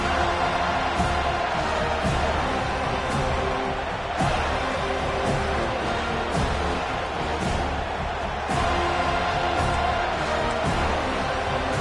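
A stadium crowd in a college football video game roars and cheers continuously, a dense, loud wash of noise with periodic swells and claps throughout, no clear talking on top.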